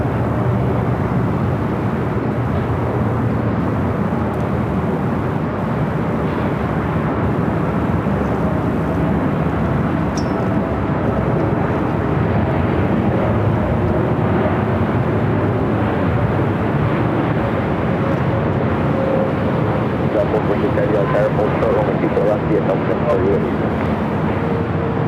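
An American Airlines plane landing on runway 24 right at LAX, a sustained, fairly loud jet roar that holds steady for the whole stretch, with radio voices talking over it.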